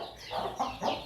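Chickens cluck softly nearby, three short throaty clucks in quick succession.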